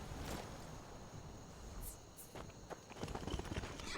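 Horse hooves walking off-road in the Skyrim video game, a soft uneven clip-clop of steps under a constant hiss of background noise, growing slightly busier toward the end, with no talking.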